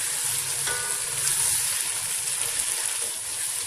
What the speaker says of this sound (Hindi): अब मुझे मसाले को भूनना है।